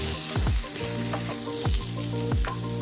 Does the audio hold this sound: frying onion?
yes